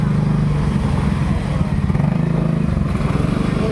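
Motorcycle or tricycle engine at a busy market in La Huerta, Parañaque, idles and throbs steadily close by, a continuous buzzing drone with no talk over it.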